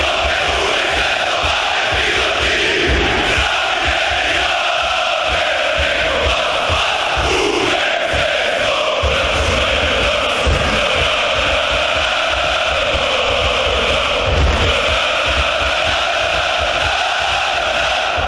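European football ultras chanting and roaring in a packed stadium, a loud, dense wall of crowd voices sustained throughout with rhythmic surges and bellowed cries.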